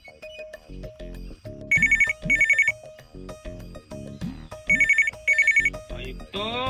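A telephone rings in two paired bursts of bright electronic trills, loud and close, set among voices talking and background music.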